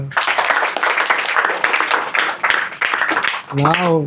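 A group of students clapping after a presentation, a brisk uneven patter of hands that runs for several seconds before a voice begins speaking at the end.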